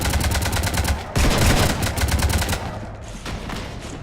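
Sustained automatic gunfire in the game Mass Effect 3, a dense rattling volley of rapid shots, close and loud, easing into a lighter trailing burst at the end.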